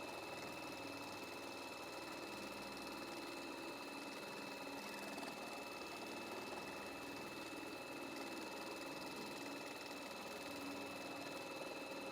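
A Baby Lock Altair embroidery machine tacks fabric and batting for a coaster with a steady, faint, continuous mechanical whir and rapid needle stitching.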